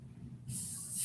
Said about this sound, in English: I'm just gonna go ahead and spray my whole side of my hairline